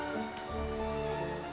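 Rain falls steadily as a continuous, even hiss of drops, with sustained tonal sounds running underneath throughout.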